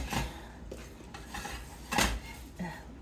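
A metal cooking pot and its lid are handled in a home kitchen during Christmas cooking, several sharp clanks and clinks spaced unevenly over a few seconds, close and fairly quiet.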